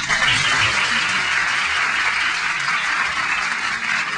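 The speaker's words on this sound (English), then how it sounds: "We can have a round of applause for that." Steady, dense audience applause fills the whole stretch from start to finish, a continuous wash of many hands clapping at an even loudness, heard up close without any speech.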